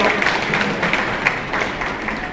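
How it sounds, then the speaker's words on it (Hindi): A crowd at a party political gathering in Muzaffarpur claps in welcome, a dense, steady wash of applause that holds at an even level throughout. "तो इसके लिए जरूर सभी लोगों को हम लोग ताली से स्वागत करें कम से कम।"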